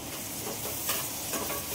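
Chili paste hissing and sizzling in a hot pan as it is added for a vegetable curry, a steady close frying crackle with a light stirring scrape, no talk.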